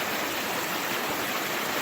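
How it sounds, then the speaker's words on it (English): Small mountain waterfall fed by snowfields in a valley, a steady close broadband rush of falling water that stays even throughout without breaks. "Here's a pretty little waterfall."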